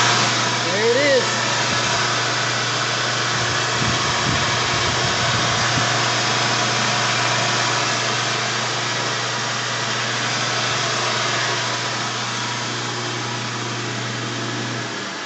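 Electric motor of a Clausing lathe running after repair with its cover back on, making a steady, close hum with a constant tone throughout. A voice is briefly heard near the start.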